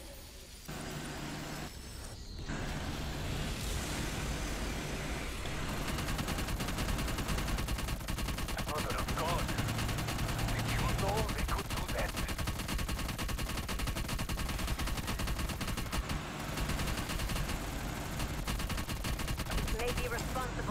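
Light machine gun fire rattles in sustained rapid bursts during a zombie Outbreak boss fight in a shooter game, continuous and fairly loud over engine-like rumble, with players talking intermittently.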